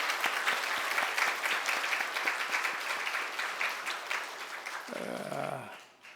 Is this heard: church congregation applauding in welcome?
yes